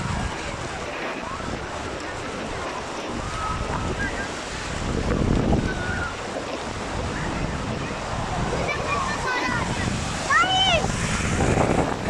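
Sea waves wash in at Hawks Bay beach in Karachi, a steady roar of surf mixed with wind buffeting the microphone that swells louder in the second half, while people talk faintly nearby.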